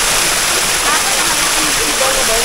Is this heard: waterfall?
yes